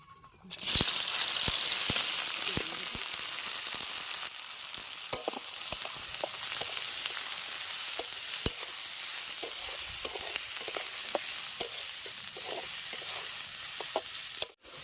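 Onion hits hot mustard oil in a wok with a sudden loud sizzle that settles into a steady, close frying hiss, punctuated by scattered clicks and spatula scrapes.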